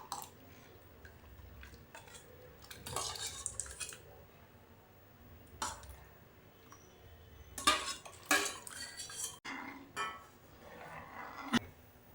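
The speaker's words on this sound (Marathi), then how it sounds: "दुसऱ्या हाताने आपण चमच्याने एकसारखं हलवत राहायचं" A spoon stirs semolina steadily in a pan, giving soft metallic scrapes and clinks in irregular bursts, with quiet pauses between the louder strokes.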